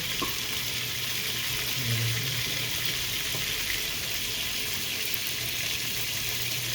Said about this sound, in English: just fry these till they're golden brown